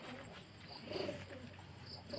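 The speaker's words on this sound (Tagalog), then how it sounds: "Medyo madami na po tayong ibon." Pigeons coo softly and repeatedly against a quiet background hiss, with faint chirps mixed in.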